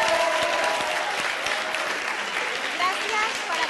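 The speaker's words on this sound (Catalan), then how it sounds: "I amb aquests aplaudiments ens acomiadem." Audience applause at a school event rings out in a steady, dense patter of many clapping hands, moderately loud and sustained throughout, without pause.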